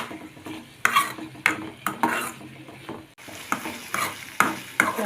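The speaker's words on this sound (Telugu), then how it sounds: "కలుపుకుంటూ ఉన్నామండి, ఇవి మాడిపోకుండా." Onions and green chillies frying in a pan and being stirred: a steady sizzle broken by sharp, repeated spoon scrapes and knocks against the pan, close and fairly loud, with no talking.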